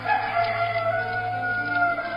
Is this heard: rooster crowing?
yes